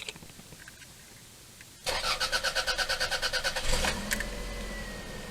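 A car engine cranks with a rapid rhythmic churning for about two seconds, then catches and settles into a steady idle, loud and close after a quiet lead-in; the car has a stiff power steering fault.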